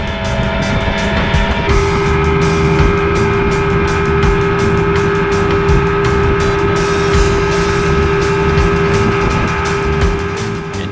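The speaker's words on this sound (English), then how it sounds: "if you like the whining of the two-stroke motors" Two-stroke boat motors whine loudly and continuously near an island, a sustained engine drone with a steady pitch that shifts upward partway through, with no speech.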